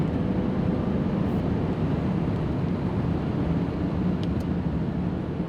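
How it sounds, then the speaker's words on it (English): A 1987 Mercedes R107 560 SL with a 5.5-liter V8 accelerating on the road, a steady, dense low engine drone with constant wind rush, even and unbroken throughout, no voices. "if you step on the gas, the power is there. Very,"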